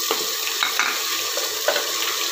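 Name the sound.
ginger garlic paste frying in a pan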